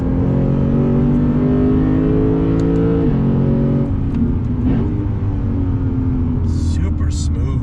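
A 2021 Lexus RC F's V8 blips and climbs in revs on a downshift under braking, a loud, close engine roar with stepped pitch changes, someone talking over it.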